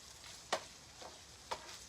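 Onions are stirred into sizzling cheesesteak meat in a pan, a faint steady fry broken by two distinct scraping clicks of a utensil about a second apart.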